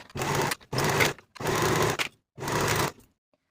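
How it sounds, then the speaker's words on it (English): Serger overlock machine stitching knit cardigan sleeves onto the bodice, running in four short bursts of steady whirring, close and loud, with brief pauses between runs. "Now I'll serge both of my sleeves to the bodice with a 3/8 inch seam allowance."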